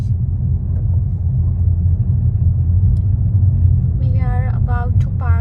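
A car drives along a road toward the Houston Zoo on a crowded Friday, its steady low engine rumble and road noise filling the cabin throughout, with a few brief high tonal chirps near the end.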